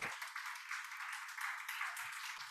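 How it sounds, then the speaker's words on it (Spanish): Audience at a lecture on ancient Egyptian medicine applauding, a steady faint wash of many hands clapping that holds for a couple of seconds without a break. "Un aplauso, por favor."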